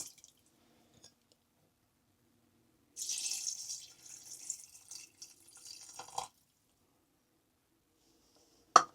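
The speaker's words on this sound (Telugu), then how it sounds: "ఇప్పుడు మనం వాటర్ పోసుకుందాం అనమాట." Water is poured into a pot for one-pot chicken pasta in a steady splashing stream lasting about three seconds, alone and fairly close, with quiet moments before and a brief knock near the end.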